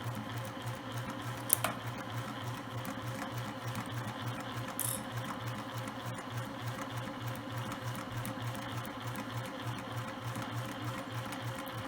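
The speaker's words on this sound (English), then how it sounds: "Finish sewing the lining and the outer fabric." Sewing machine stitching lining to outer fabric for a travel shoe bag, a steady rapid mechanical chatter running continuously at low volume with a couple of small clicks.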